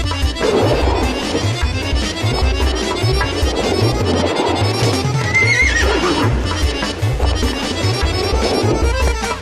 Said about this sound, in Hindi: ऐसा लगा जैसे घोड़ा हंसा।